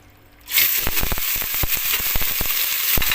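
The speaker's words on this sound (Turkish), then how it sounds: "Burada tenceremizi kızdırıp etimizi koymak önemli." Meat hitting a heated pot and searing, with a sudden loud burst of sizzling and spitting that stays dense and crackly, scattered pops rising over the steady hiss.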